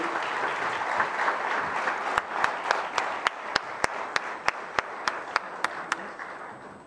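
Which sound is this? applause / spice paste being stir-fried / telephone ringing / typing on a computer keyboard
applause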